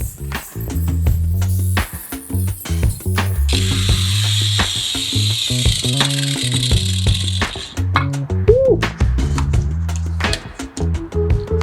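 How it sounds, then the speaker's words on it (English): An angle grinder cuts floor tile to fix a tile that has popped up, giving a loud whining grind with rattling, clattering bursts as the blade bites over several seconds, and one brief exclamation. "I've got a grinder here."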